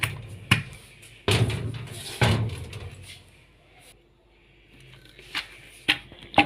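Fresh coconut pieces are pounded by hand: a few heavy, close thuds at irregular intervals, the first ones loudest, then lighter knocks and taps over a quiet room.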